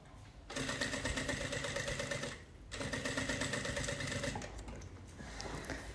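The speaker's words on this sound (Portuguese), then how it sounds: "vou costurar em um retângulo de reforço da minha alça" A sewing machine runs in two steady bursts, stitching a reinforcement rectangle onto a bag strap, with a short pause between runs and a softer trailing stretch at the end.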